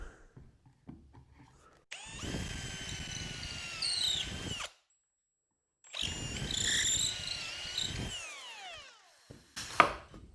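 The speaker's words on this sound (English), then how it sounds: "And we'll just go ahead and drill the holes." A pneumatic drill whines steadily in two long bursts separated by a pause, drilling pocket holes close up through a jig, ending with a sharp clank.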